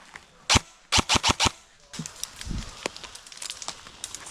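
Airsoft guns fire during a milsim game outdoors: one sharp snap, then a quick string of four crisp shots close by, followed by softer scattered distant pops and rustling.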